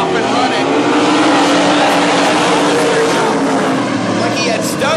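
Race cars roar off the start of a heat race at North Central Speedway, a loud, dense engine din sustained throughout as the pack accelerates together.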